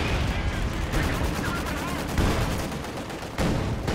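ZIS artillery barrage in the Company of Heroes video game, a dense rumble of repeated booming shell impacts and gunfire over several seconds, fairly loud and continuous with sharp bursts.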